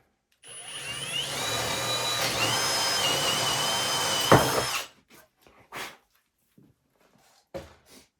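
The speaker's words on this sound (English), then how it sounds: "I grabbed the 11 32 bit, which is this one, and I'm going to drill this home." A power drill with an 11/32 bit whines steadily for several seconds as the bit bores into a wood slab, then stops, followed by a few short knocks and handling noises.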